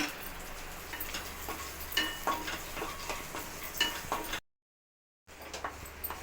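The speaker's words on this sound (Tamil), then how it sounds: "பாதாம் திராட்சை மட்டும் சேர்த்துட்டு நல்லா கொஞ்சம் ஃப்ரை பண்ணிக்கலாம்" Almonds and raisins fry in ghee with a soft, quiet sizzle broken by scattered clicks and taps of stirring, and the sound drops out completely for nearly a second.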